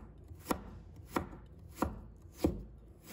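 A knife chops through a peeled piece of ginger on a cutting board, four sharp, evenly spaced thuds about two-thirds of a second apart, close and clear with no voices.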